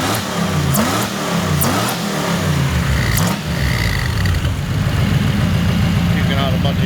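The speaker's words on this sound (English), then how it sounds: "It sounds like a healthy motor" Chevrolet S10 engine running at a steady idle on a Holley EFI Sniper system, rumbling continuously and up close, with people talking over it.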